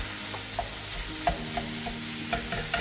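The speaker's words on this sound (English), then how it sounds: "I'm going to add my pork mince now" Pork mince sizzling and crackling in a hot stir-fry pan with onion, spring onion and garlic, a steady frying hiss broken by repeated scraping stirs.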